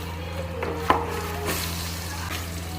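Olives hitting hot oil in a pan for olive pickle, a continuous soft sizzle with a sharp clink and a few light scrapes, close up, under a steady low hum, no talking.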